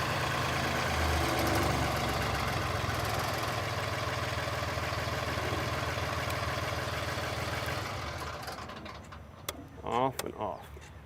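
Engine of an Infinity B1000 vac trailer running at a steady loud idle, then winding down and dropping off near the end, followed by a brief voice.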